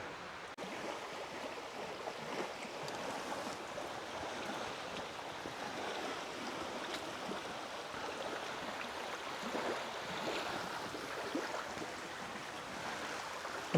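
River water flows in a steady, close, broadband wash with no breaks, rushing evenly over stones from start to finish with no voices.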